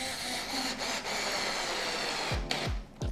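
A small impact driver runs screws into a wooden counter during a workroom DIY build, a steady whirring drone broken near the end by three sharp rapping impact bursts in quick succession, heard at moderate level close by.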